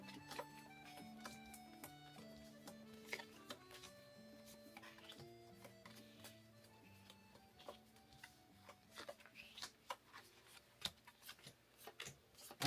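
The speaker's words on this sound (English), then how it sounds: "we need to shuffle these playdate cards, which I'm gonna do real fast" Tamagotchi Collections playdate cards being shuffled quickly by hand: a run of crisp, irregular clicks and riffles that grows busier toward the end, playing over steady background music with no talking.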